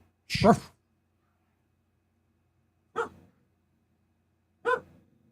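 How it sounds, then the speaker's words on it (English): A dog barks three times, once early and then twice more after long quiet gaps, each bark short and fairly close. "what are you barking for?"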